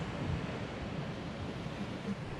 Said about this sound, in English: we are very close to the ocean. That close.